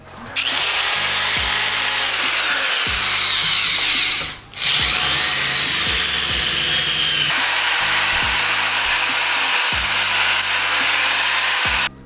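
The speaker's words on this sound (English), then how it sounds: "we'll just drill these out" A power drill grinds loudly and steadily through metal, drilling out bolts on a mini ATV, with a brief pause near the middle before drilling resumes, revving and biting in bursts.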